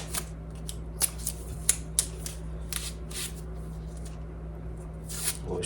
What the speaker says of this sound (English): Then we'll put a little bit of masking tape on either side of this